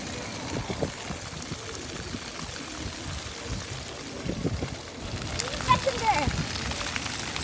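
Splashing water from outdoor fountains patters and sprays steadily close by, with scattered louder bursts as people play through the jets and voices rise in the background.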